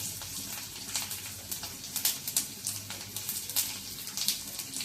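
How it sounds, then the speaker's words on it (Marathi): Garlic and dry red chillies sauté in hot oil for a homemade chutney, giving a steady close crackling sizzle with small irregular pops and brief stirring bursts throughout, no voices. "लसणी आपल्याला चांगल्या परतून घ्यायच्या आहेत छानपैकी तेलावर। लसूण आणि ही सुकी मिरची"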